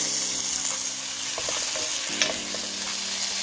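Onions frying in butter in a pan give a soft, steady sizzle with a few light stirring clicks and scrapes near the middle, faint and close with no talking.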